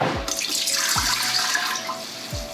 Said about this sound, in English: So in the Instapot, I'm gonna add 2 cups of water.